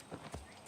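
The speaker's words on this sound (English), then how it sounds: "Yeah, get out of the way of my horse." A few hoof clops from a horse in Assassin's Creed Origins, brief and fairly close, under a soft ambient wash with no speech.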